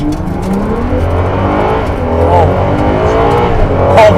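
A Ferrari accelerates hard to 7,000 RPM, its engine note climbing steadily and loudly over about four seconds with a continuous rising roar.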